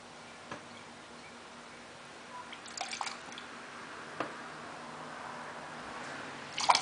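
Water from a soil runoff sample drips faintly into a cup in a few sparse, soft ticks and drops against a quiet room hum.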